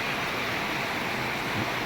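Heavy rain pours down during a night thunderstorm in Nellore in the first rain of summer, making a steady, dense broadband hiss with no distinct thunder claps and no voices.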